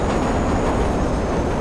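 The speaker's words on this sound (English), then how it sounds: "Train is coming." A train arriving in a Watch Dogs city: a steady, loud, broadband rumble of rail wheels and carriages rolling close by, continuous and unbroken with no voices.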